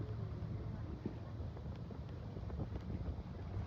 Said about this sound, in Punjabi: ਹਵਾ ਚੱਲ ਰਹੀ ਬੜੀ ਸੋਹਣੀ।